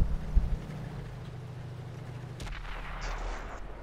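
A tank cannon fires in a World War II tank combat video game, a single booming shot with a broadband blast around the midpoint, its rumble trailing off amid engine drone and battle ambience.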